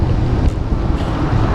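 Heavy wind buffets the microphone of a city bike rider. It comes as a loud, close, low rumbling roar that holds steady with small gusty swells.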